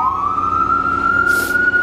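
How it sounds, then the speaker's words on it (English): An ambulance siren wails loud and near on a city street, its tone slowly rising and holding, with a brief hissing burst partway through. "Don't mind the ambulances or nothing like that."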